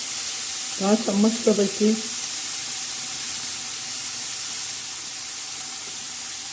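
Washed broad bean pods hitting a hot pan of oil, a steady, bright hiss of sizzling that carries evenly throughout, with someone speaking briefly near the start.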